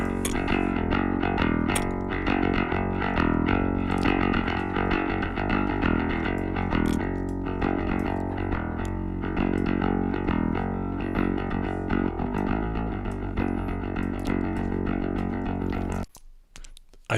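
Distortion and saturation from an Ugritone vocal and bass channel strip plugin, a dense and continuously loud processed tone with steady sustained harmonics that holds for about sixteen seconds and then cuts off abruptly.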